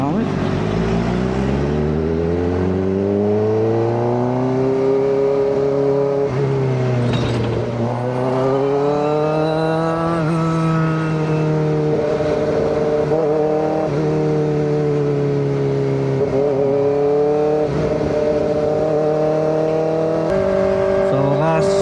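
Kawasaki ZX-4RR motorcycle engine on a night ride along the NLEX, loud and close with smooth rising and falling revs through the gears, a high-pitched whine holding steady between shifts.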